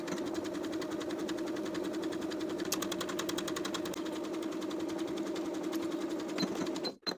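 A sewing machine runs steadily and continuously while stitching a blouse seam with back stitching, a close, even mechanical whir that stops abruptly just before the end.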